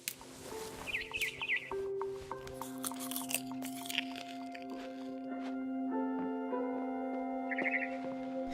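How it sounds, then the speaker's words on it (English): A barn swallow chirps outside a window in the video game What Remains of Edith Finch, short high trills at start and end over soft wet chewing squishes and a quiet tonal music bed. "Then I heard chirping outside my window."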